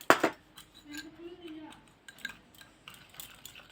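A spoon mixing homemade ENO powder ingredients clinks and scrapes against a container, with a sharp knock at the start and lighter scraping taps after it, while a voice murmurs softly in between.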